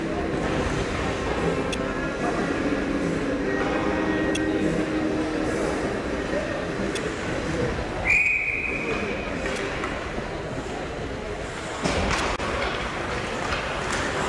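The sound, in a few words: referee's whistle stopping hockey play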